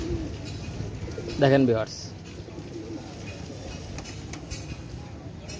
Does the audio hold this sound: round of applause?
no